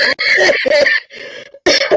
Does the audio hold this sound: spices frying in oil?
no